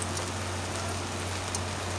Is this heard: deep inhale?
no